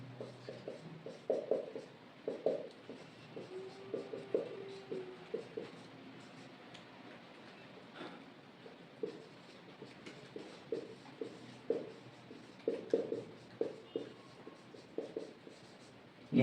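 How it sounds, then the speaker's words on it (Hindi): Pen or pencil scratching on paper as the English alphabet is written out by hand, a run of short, close strokes in irregular bursts with brief pauses between letters, quiet and alone without talk. "मैं लिख रहा हूं एक बारी, तो अब हम इसको लिखेंगे।"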